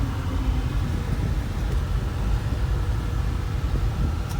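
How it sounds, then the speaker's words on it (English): A 1965 Ford Mustang with a four-speed on the move, a steady low engine rumble and road noise holding even throughout, with no talk. "Gonna take a ride in the 65."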